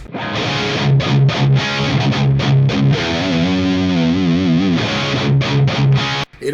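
An electric guitar plays through a Mythos overdrive pedal and a Mesa Boogie Multi Watt Dual Rectifier amp. It gives heavy, driven palm-muted chugs and a held, wavering chord, loud and up close, ending with a brief cut.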